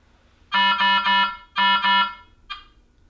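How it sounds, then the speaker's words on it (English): Speaker test tone from an ultrafiltration machine: two loud, close groups of sharp electronic beeps, three and then two, followed by one short fainter beep, with no speech. "Press Accept to sound speaker."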